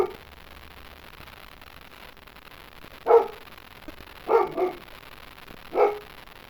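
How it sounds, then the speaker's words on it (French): A dog in a Minecraft village barks in three short bursts, one of them a quick double bark, moderately close, with quiet gaps between. "Il peut pas se taire le chien par contre."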